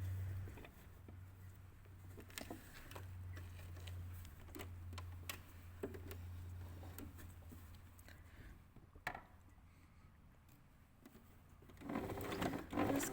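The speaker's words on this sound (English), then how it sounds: "I'm going to stitch back and forth on that line I've already stitched." A sewing machine stitches back and forth along an exposed zip, its quiet steady whir broken by light ticking clicks and handling knocks, with a brief louder rustle near the end.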